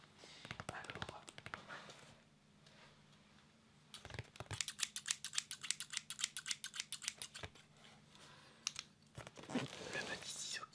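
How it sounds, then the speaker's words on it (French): Small scissors cutting, a run of quick crisp close snips in a fast regular rhythm with some faint rustling, preceded by soft handling sounds. "le petit ciseau qui va bien"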